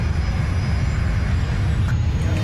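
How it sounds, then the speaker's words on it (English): Boeing 747 engine roaring back to life in flight: a loud, steady, broadband jet roar with heavy low rumble that holds constant throughout. "the 4th engine roars back to life"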